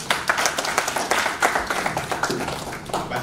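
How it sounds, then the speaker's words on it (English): Scattered hand clapping from a conference audience at a renewable energy expo, an uneven patter of claps that is fairly close and moderately loud, with no talking over it. "Let's give him a round of applause."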